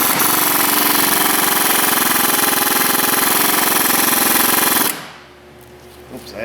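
An impact wrench fitted with a swivel hammers continuously and loudly on the front axle of a Dodge Dakota, a rapid rattling burst lasting about five seconds before stopping abruptly into quiet.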